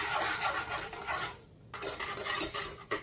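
Blueberry tart custard being whisked in a pot, with a busy scrape and clatter of metal against the pan running steadily and close up, briefly easing before resuming.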